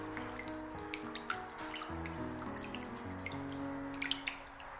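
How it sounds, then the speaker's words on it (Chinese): Chicken wings are rinsed in clean water in a sink, soft sloshing and dripping with light splashes and clinks, faint and close, with no talking. "我们用清水多给它清洗2遍，直到洗至水清澈为止。"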